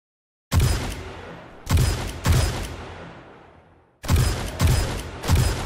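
Heavy gunfire aimed at a zombie in 7 Days To Die: six loud, booming shots in two groups of three, each with a long decaying tail, no talk.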